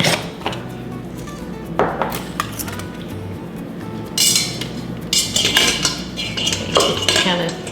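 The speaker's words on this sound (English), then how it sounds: "now put your lid on" Metal clinks and clatters as a lid is handled and set onto a pot holding popping corn, with scattered knocks of cookware.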